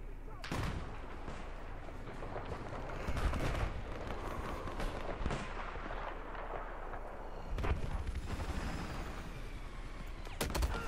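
Battlefield 4 gunfire crackles throughout in repeated sharp shots and bursts, some loud and close, over a busy rumbling battle bed with occasional voices.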